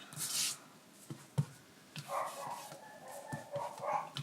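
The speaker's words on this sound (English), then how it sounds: "I'm sorry if you hear my dog barking in the background." A dog barks faintly in the distance in a few short bursts, heard beneath light rustling and scratching nearby from handmade card crafting.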